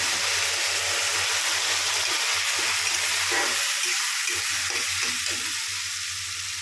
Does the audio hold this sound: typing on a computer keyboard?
no